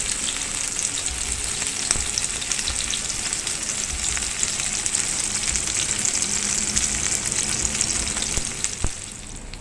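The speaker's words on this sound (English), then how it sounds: "let us add our fish to the oil and cook it on a medium heat around 3 to 4 minutes from each side" A surmai fish steak frying in oil over medium heat, Mangalore style, gives a continuous close sizzle and crackle with occasional pops, and nobody speaks.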